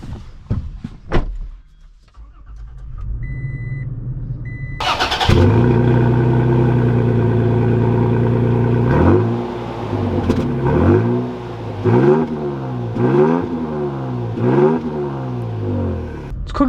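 A 2021 Toyota Tacoma TRD Sport pickup starts up and pulls away, its engine rumbling loudly and steadily, then rising and falling through a run of repeated revving pulls as the truck accelerates through its gears.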